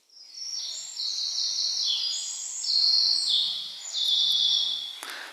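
A recorded bird sings a clear, whistled song made of a run of sustained tonal notes that step up and down in pitch, steady and fairly loud for about five seconds and ending with a brief click.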